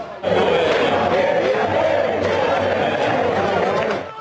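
A large crowd of Flamengo football fans packed into a square in Tijuca, Rio de Janeiro, roars in a loud, sustained chant and cheer that holds steady for several seconds before easing slightly at the end.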